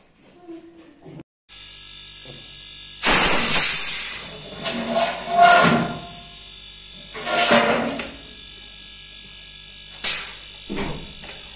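A refrigerator compressor runs in bursts, pushing oil out through the suction pipe with loud hissing, sputtering spurts separated by short pauses, with a steady electrical hum underneath.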